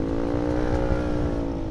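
Honda Beat scooter accelerating under a rider, a steady, buzzing engine whine held close and loud throughout a short burst.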